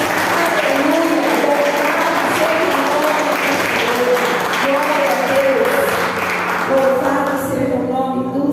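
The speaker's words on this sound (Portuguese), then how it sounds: "que as palmas louvem ao Senhor" A church congregation claps in praise during a service, loud continuous applause with voices calling and singing over it and a low electrical hum beneath.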